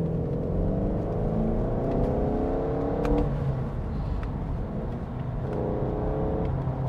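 A VW Golf 8 GTD diesel pulls hard under acceleration, its engine note rising steadily and dipping briefly at a paddle-shifted gear change before climbing again, loud and continuous from inside the car.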